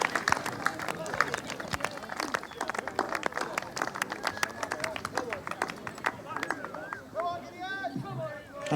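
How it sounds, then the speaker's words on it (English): Cheering and clapping break out for a cricket batsman after a very high score, with crowd voices and chatter mixed through the steady applause. "Big round of applause for Ed with a very high score"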